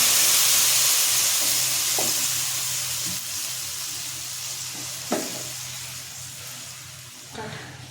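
Dissolved tamarind water poured into simmering bone sambar, heard as a steady loud hiss and bubbling in the pot that slowly fades, with a few soft clinks of utensils, close and alone.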